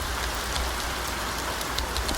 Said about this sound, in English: The rain is falling on the keys, but I don't care.